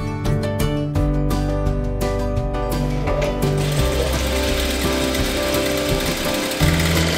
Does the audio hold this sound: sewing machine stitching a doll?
yes